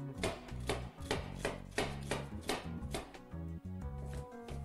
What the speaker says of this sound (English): we're just going to cut it up kind of small so it's helping our mixer blend everything up nice and evenly